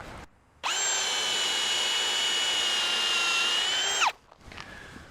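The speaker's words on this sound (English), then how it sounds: "drill all the way through the post" A power drill whines steadily at high speed for about three and a half seconds as it bores through a wooden fence post, then stops abruptly, followed by faint handling noise.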